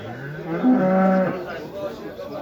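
A motherless female calf at a livestock market in Gölyaka gives a single loud, close moo that rises and holds for about a second over a low background murmur.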